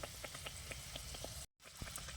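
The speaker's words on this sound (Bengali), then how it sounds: "আর একটু লাল লাল করে ভাজবো" Pea kachoris fry in hot oil with a steady, faint sizzle and soft popping throughout, broken by a brief silent gap.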